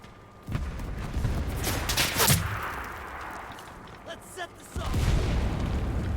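Explosions and gunfire-like blasts in a video game, with loud booming bursts near the start and again toward the end, under a steady noisy background.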